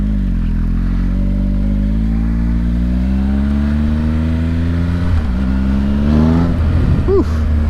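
A 2019 Triumph Speed Triple 1050 RS motorcycle accelerating hard on an Oregon road, its engine note climbing steadily through the revs, loud and close with a rising whine and rough wind-buffeted rumble throughout.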